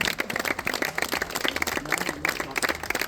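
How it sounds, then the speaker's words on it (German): Fast, dense clapping from a small nearby crowd at a turbo-kart race in Wohlen, praising a kart racer, with many sharp hand claps blending into an uneven, lively burst of applause. "Einen grossen Applaus für ihn, der durchgezogen hat."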